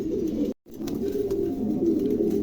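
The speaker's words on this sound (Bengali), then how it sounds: "দেখেন, চমৎকার একজোড়া ব্লু পুটার আছে" A pair of blue pouter pigeons coo close by in soft, steady low murmurs, with a brief gap of silence early on and no talking.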